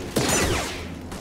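Blaster gunfire in Star Wars Jedi: Fallen Order, a quick burst of zapping shots with descending sweeps over game ambience, moderately loud, no talking.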